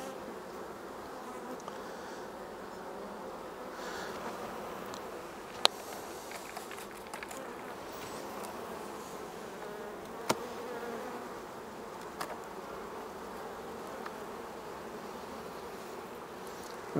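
Honeybees buzz in a dense, steady hum around an open Langstroth hive colony, a continuous close swarm drone with occasional faint clicks and taps of frames being handled.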